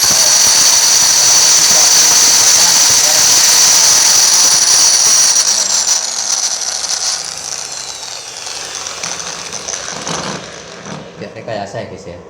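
A 12 V car-battery inverter converting to 220 V is switched on and runs with a loud, steady high-pitched electronic whine and hum that fades and becomes unsteady toward the end, with a voice heard under it.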